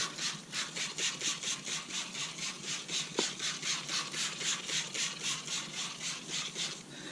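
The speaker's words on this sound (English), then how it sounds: "let me go ahead and respray the tires off like I said earlier" Water sprays against a car's tires during a wash, a steady rushing hiss that pulses rhythmically, close and continuous with no talking.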